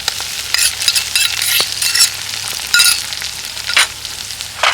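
Onions fry loudly with turmeric and ginger garlic paste in a village kitchen pan, a close, crackling sizzle broken by repeated bursts of stirring and scraping.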